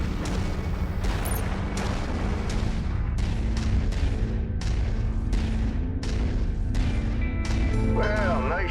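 Mech weapons fire in MechWarrior 5 in a loud, relentless barrage of booming shots and blasts, roughly one or two per second, each with a sharp onset and a rumbling decay, under intermittent radio-style voices.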